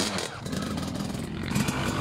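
KTM EXC 300 TPI two-stroke dirt bike engine revving hard on the throttle, a steady raspy buzzing roar with no break.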